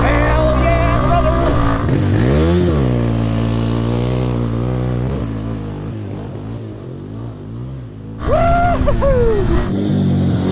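A Yamaha Warrior 350 ATV engine revs hard for a second-gear launch, its pitch climbing and dropping through repeated surges, loud and close, with an excited shout near the end.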